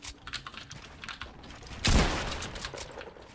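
A single sharp, loud gunshot from a video game shooter cuts through a background of light clicking and game ambience, with a short decaying tail after the blast.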